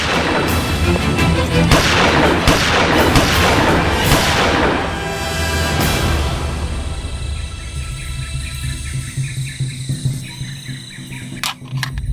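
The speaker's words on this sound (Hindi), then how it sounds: "कवर फायर करो।" Covering gunfire in a crime drama shootout, dense loud bursts of shots and booms filling the first half, then thinning out to scattered sharp reports with quieter gaps toward the end.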